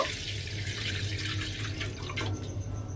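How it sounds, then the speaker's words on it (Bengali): Water poured steadily into a cooking pot (kadai) on a stove while making chana dal, a continuous close splashing flow with a low background hum and no talking. "আবারও আমি এর মধ্যে বেশ কিছুটা জল দিয়ে দেব।"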